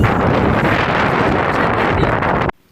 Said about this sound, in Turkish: Birden böyle bir rüzgar çıktı.